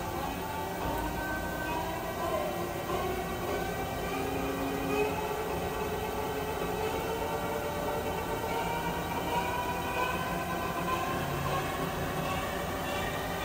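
A 2008 Mazak Integrex E650H II/4000U multi-tasking machining center with its spindle running at 100 RPM, a steady continuous mechanical hum and whine with faint tonal layers, unchanging throughout.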